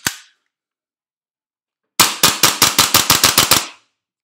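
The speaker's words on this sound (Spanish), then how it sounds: "para que veáis cómo suena esta pistola" Tokyo Marui Hi-Capa 4.3 Dual Stainless airsoft pistol dry-fired indoors without BBs: one sharp snap, a pause, then a rapid run of about ten crisp, loud mechanical clacks.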